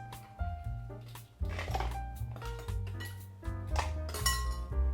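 Ice cubes dropped into a brown sugar milk tea drink, a run of bright clinks and rattles against the glass or shaker, close and fairly clear, with no talk.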